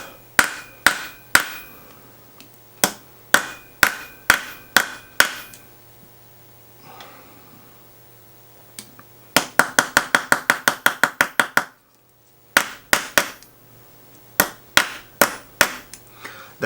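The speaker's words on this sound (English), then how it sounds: "I'm going to take my rawhide mallet on my flat block here" A rawhide mallet strikes a thick wire chain link on a flat metal block in sharp, ringing blows. Spaced single hits come first, then a rapid flurry, a brief pause and a few more strikes.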